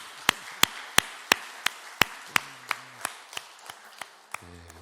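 Sharp, evenly spaced claps, about a dozen in a steady rhythm, gradually fading, from a Baptist church congregation at Sunday worship welcoming a young soldier home on leave; a brief faint voice or tone near the end.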